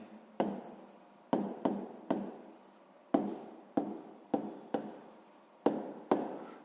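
Pen on paper during a sixth-grade maths exercise, heard as a series of close, short scratching strokes, about a dozen separate marks each starting sharply and fading, with quiet gaps between.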